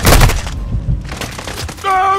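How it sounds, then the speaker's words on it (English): A cruise missile blast in Call of Duty MWII multiplayer: heavy booming impacts and rumbling bursts over about two seconds, loud and close, ending with a tonal game alert. "Hostile cruise missile incoming"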